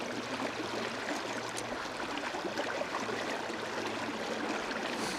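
Fast-flowing water of the River Vyrnwy rushes in a steady, broad wash on a windy afternoon, with no voices.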